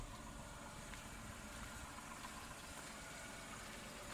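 A Tata Altroz petrol engine with about 5,500 km on it idles steadily with the bonnet open, giving a constant low hum and faint broadband hiss with no change in level and no voices.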